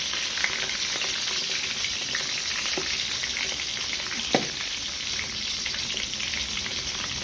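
Brinjal pieces frying in hot oil for a spicy Tamil kathirikkai kuzhambu, giving a steady, close crackling sizzle with a few sharp pops and utensil knocks as they are turned in the masala.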